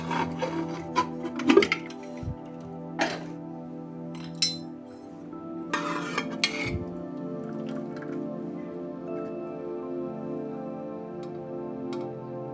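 Pressure cooker being opened after cooking moth beans, scattered metallic clinks and taps of the lid and spoon against the pot, with a faint steady hum underneath and no talk.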